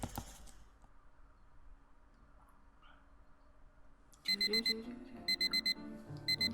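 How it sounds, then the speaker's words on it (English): An alarm clock in the video game Asagao Academy beeps in quick repeated bursts after a quiet stretch, loud and close, ringing in two clusters. "I woke up to my alarm beeping"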